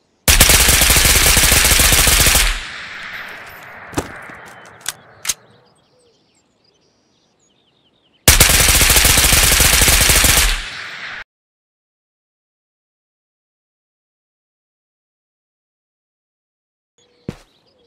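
RK6 rifle fired in the Ghost of Tabor video game, two long sustained full-auto bursts of about two seconds each with a few single shots and echoing tails, separated by silence.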